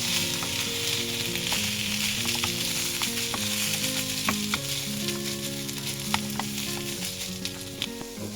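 Spices, barberries and cinnamon frying for sprat plov, a loud continuous sizzle with occasional sharp utensil taps and scrapes, close up, with steady tones running underneath and no voices.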